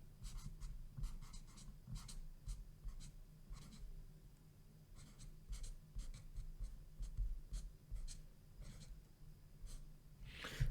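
Hand-written words scratched onto paper in close, quiet ASMR style, with short pen strokes coming in irregular bursts and small pauses between them, and no talking.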